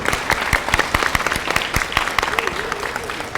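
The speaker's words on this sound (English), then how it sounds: "please give a big round of applause to Professor Dr." Audience applause for a professor at a mechanical engineering society awards ceremony: a steady spatter of clapping from a fairly small crowd, with sharper individual claps standing out and a faint voice briefly audible underneath.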